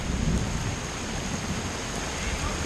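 Heavy rain pours down during a flash flood, a dense steady roar of water with low rumbling underneath, constant and close throughout with no voices.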